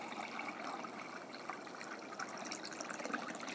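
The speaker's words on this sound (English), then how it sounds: "And then you fill this center part with water." Water poured into the center of a container holding rose cuttings, a soft continuous trickling and gushing stream, faint and close, with no voices.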